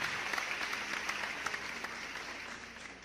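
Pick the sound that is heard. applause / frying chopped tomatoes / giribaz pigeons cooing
applause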